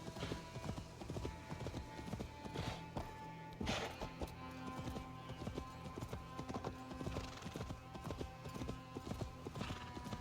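Horse hooves clip-clop in the video game Assassin's Creed, a dense, continuous patter of close hoofbeats with a brief neigh and faint game ambience.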